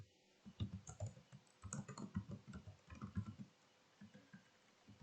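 Fingers tap a computer keyboard while entering values into Microsoft Excel cells. The keystrokes come in quick, uneven bursts of soft clicks, recorded close and quiet, with no voices.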